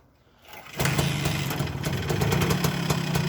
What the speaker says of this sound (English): this is a two-stroke 90cc version, and it won't stay running unless it's warm